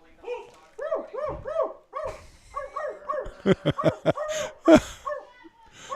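A person imitates a dog with a run of yipping, barking sounds in a quick rhythm, followed by a burst of louder barks. Other voices and laughter mix in around it at a softball game.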